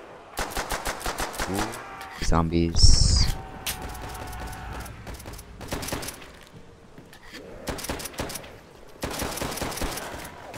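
Rapid bursts of gunfire from the video game Call of Duty: World at War in a zombies match, loud automatic volleys separated by short pauses, with a sharp game effect near the middle.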